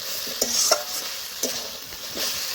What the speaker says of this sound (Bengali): আমি বেশ কিছুক্ষণ ধরে আবারও কষে নিলাম মটন